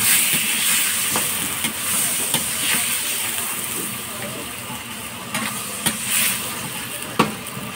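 Pancit sizzles in a hot pan as it is stirred, a steady hiss and frying crackle punctuated by sharp scrapes and clinks of the utensil against the pan, close up.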